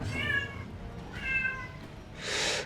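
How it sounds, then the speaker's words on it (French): A cat meows loudly twice, each call a drawn-out, tonal cry, followed by a brief burst of hissy noise. "le chat qui pète un boulon"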